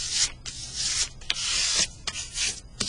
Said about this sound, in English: you're going to burnish your print. This helps get all that ink to every little place on your printing plate